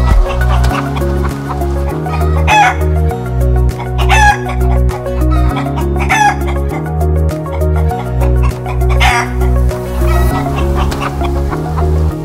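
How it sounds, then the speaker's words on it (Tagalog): Native chickens on a farm in the Philippines cluck and crow loudly nearby, several roosters giving repeated drawn-out crows over a steady chorus of clucking and rhythmic background thumping. "May alaga rin po kaming mga manok."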